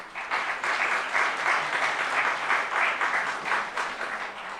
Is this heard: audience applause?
yes